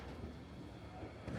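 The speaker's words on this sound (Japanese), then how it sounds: "見て、電車来た。" A streetcar in Ehime rolls toward the stop, a faint low rumble and rail noise held steady at a distance, with a slight swell near the end.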